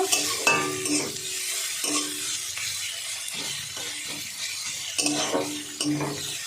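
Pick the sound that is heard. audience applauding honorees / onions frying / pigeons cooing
onions frying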